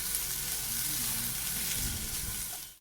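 Capsicum and carrots fry in a pan with a steady, close, dense sizzle that holds level for nearly three seconds before cutting off abruptly, with no voices.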